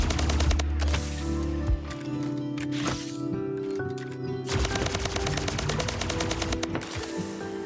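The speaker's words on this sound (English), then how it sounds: "With the Plasma Gun, it does have the same fire rate as the Assault Rifle." Plasma Gun in the shooter game Splitgate fires in rapid automatic bursts, dense crackling energy shots broken by short pauses, loud and close with no talking.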